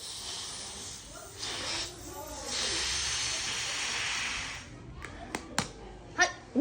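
Air hissing steadily out of a rubber balloon for a few seconds, then cutting off into a handful of sharp rubbery squeaks and taps as the balloon is handled up close.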